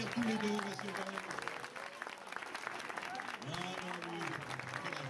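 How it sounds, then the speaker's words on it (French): An audience at a French game-show style event applauds in continuous rapid clapping, while a presenter's voice and other voices talk over it throughout. "vous pouvez les applaudir tous les deux"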